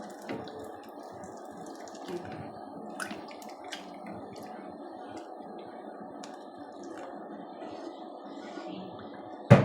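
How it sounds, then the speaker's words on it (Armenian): Water trickles and drips steadily into a cooking pot at close range, a faint continuous pour with scattered small splashes and a louder clank at the end. "Այսա մի քիչ եմ երման ջուր լցնում"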